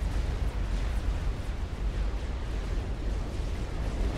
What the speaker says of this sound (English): there's that massive round from the Tempest there, engaging some of the backgrounds in the backfield